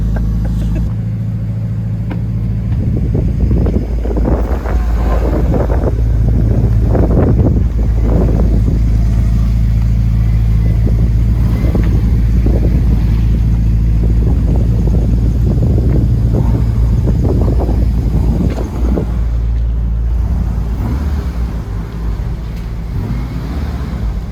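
A turbocharged Acura TSX engine idles and revs with a constant low rumble and intermittent mechanical rattling and squeaks from its twin-disc clutch, no talking.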